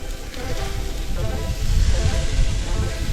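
Food sizzling in a hot pan on a stove in an Irish countryside farmhouse kitchen, a close, steady crackling hiss that swells louder partway through, with no talk.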